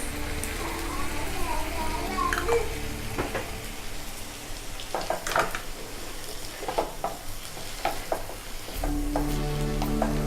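Vegetables tossed with soy and chilli sauce crackle and sizzle in a hot pan for egg fried rice, with sharp spatula clacks and scrapes punctuating a steady close frying hiss.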